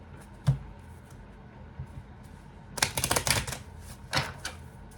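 Tarot cards being shuffled by hand, quick papery riffling bursts close by after a single sharp tap, with a shorter burst following a moment later.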